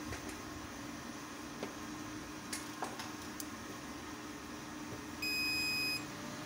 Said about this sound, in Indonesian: Di sini untuk langkah pertama saya akan menyalakan inverternya terlebih dahulu.